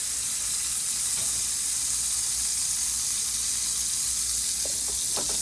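A teaspoon of butter sizzles in a pan over medium-low heat, a constant bright frying hiss with a few small pops near the end, no talk.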